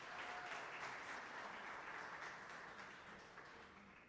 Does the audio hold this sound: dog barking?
no